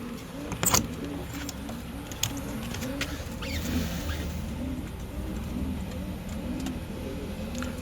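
Soft cooing and rustling of young pigeons in a chick coop, faint and close, with light patter and a few brief clatters.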